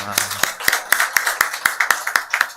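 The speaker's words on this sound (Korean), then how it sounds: "하나님께 영광의 박수 올려드리겠습니다." A Sunday church service congregation in Sejong, Korea, claps in a steady rhythmic beat of sharp, evenly spaced claps for about two and a half seconds, with voices mixed in.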